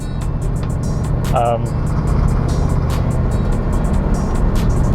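A 1971 Ford Mustang Mach 1 with a 429 Ram Air V8 and 780 CFM carburetor accelerating in fourth gear, a loud continuous low engine roar heard from inside the car, with a voice speaking over it.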